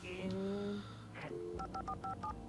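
A telephone is dialed in the video game Alan Wake, a quick series of about five short dual-tone beeps, clear and close, following a brief stretch of tonal game sound and muffled voices.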